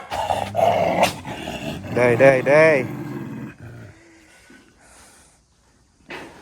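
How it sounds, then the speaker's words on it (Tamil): A dog on the trek up Kalavantin Durg, a hill fort trail past rice fields, growls low and snorts nearby while someone speaks over it, and the growl trails off into quiet. "நாய் வேறு உருமிட்டு இருக்கு."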